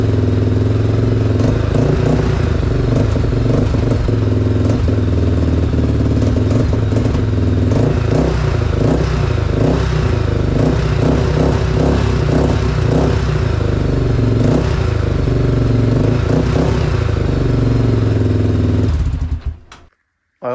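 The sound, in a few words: Honda 400ex ATV engine running after carb tuning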